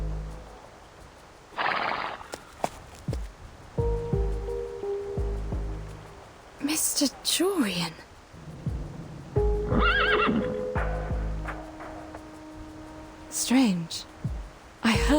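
Horses in the video game Reverse: 1999 neigh and whinny several times while hooves clop nearby. A short spoken line comes partway through, over water-like ambience.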